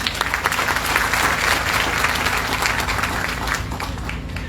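Audience at a Saiva Siddhanta seaside pilgrimage gathering breaks into loud, sustained applause, a thick roar of many hands clapping continuously close to the microphone, easing slightly toward the end.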